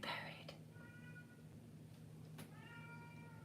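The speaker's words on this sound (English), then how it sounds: "My crazy cat meowing." A pet cat meows in a couple of short tonal calls, fairly close, over a steady low hum and background murmur.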